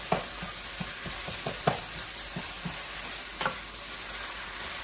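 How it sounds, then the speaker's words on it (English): Philly cheesesteak meat sizzles in a hot pan under a steady hiss, with a series of scraping stirring strokes knocking at irregular intervals, close and moderately loud, no talking. "We're just going to stir this around."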